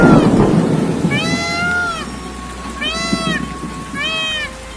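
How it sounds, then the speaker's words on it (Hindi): Heavy rain with thunder falls over farm fields in an animated Hindi story, opening with a loud rumbling burst and a noisy wash, then three repeated high animal calls ring out over the steady background. "अचानक एक दिन तेज बारिश होने लगती है और खेत में पानी लग जाता है"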